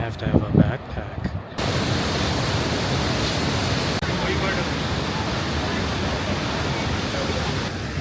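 A waterfall on Yosemite's Mist Trail roars as a steady, loud wash of broadband noise that sweeps in after a brief moment of speech and holds unbroken to the end.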